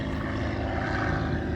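Small propeller airplane flying near Essex County Airport in New Jersey, a steady droning engine and propeller hum at moderate distance, continuous throughout without talk.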